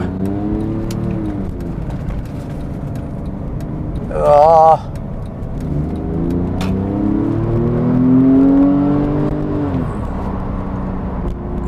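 A Porsche 911 Carrera S accelerates on a road near a lorry and a roundabout, its engine note rising steadily in a sustained drone, with a brief voice exclamation partway through.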